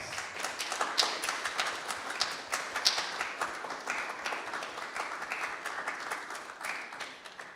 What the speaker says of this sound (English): Let's give Mrs. Korie Faris a big round of applause.